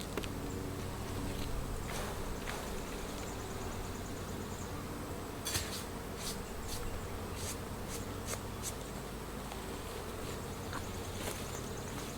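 Honey bees buzzing around an open hive while honey is taken from the top box, a soft continuous hum with scattered sharp clicks and taps of frames and tools, fairly faint and without talk.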